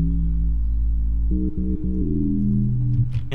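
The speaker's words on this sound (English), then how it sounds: "So what I did was I sampled this unusual farm sample, and it sounds like this." A deep bass tone made from a sampled farm sound drones low and steady, then breaks into short rhythmic stabs, with no voices present.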